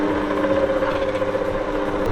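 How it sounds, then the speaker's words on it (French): A stand mixer turns puff pastry dough on first speed, giving a steady mechanical whir with a faint rhythmic ratcheting knock, close and continuous with no talking. "je mets à tourner ça en première vitesse au batteur jusqu'à temps que ça fasse une pâte"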